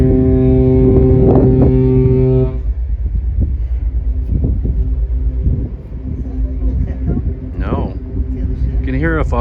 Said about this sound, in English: Hear a foghorn there,